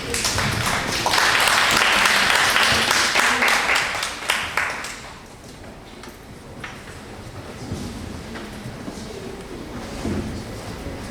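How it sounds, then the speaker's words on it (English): An audience at an international SDGs conference on inquiry and practice applauds student presenters, a full burst of clapping for about four seconds that drops off sharply into scattered claps and room noise. "please give them a big round of applause"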